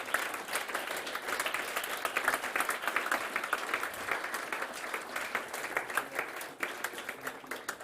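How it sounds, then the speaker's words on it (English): An audience at the Start.up! Germany Tour 2022 grand final applauds the competition winner with a sustained, steady patter of many hands, heard from a distance and fairly soft. "So an applause for HydroX."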